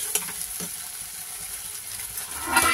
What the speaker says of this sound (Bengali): এটা দিয়েই ভালো করে একটুখানি কষে নিতে হবে।